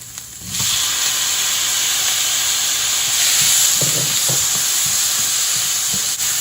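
Onion and tomato fry with ginger, garlic and cashews in a pan for butter chicken, giving a loud, constant sizzle and hiss, with soft scrapes and knocks as the mixture is stirred.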